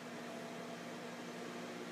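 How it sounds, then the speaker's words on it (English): A microwave oven runs with a steady, even hum and faint whir, constant and fairly quiet throughout, with no voices. "You put it in, start,"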